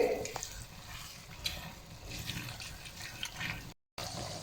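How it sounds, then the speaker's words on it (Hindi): Chicken mince sizzles and fries in a pan over a medium flame while being stirred, a soft steady crackle with occasional scraping and clinking of the spoon, close and continuous, with one brief dropout near the end. "मीडियम फ्लेम पे 10 मिनट हम कीमे की अच्छी तरह बुनाई करेंगे"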